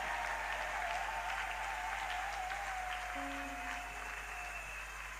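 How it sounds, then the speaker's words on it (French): A church congregation applauds and cheers continuously, a steady dense wash of clapping with voices mixed in, sounding close and full throughout. "Quand il avance, on acclame très fort pour le Seigneur."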